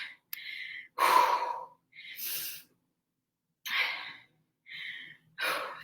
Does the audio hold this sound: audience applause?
no